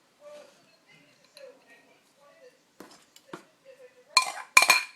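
Cooked rice and chopped apple stirred together in a small crock pot for rice pudding: a few sharp spoon clinks and scrapes against the stoneware, the loudest near the end, with quiet talk in between.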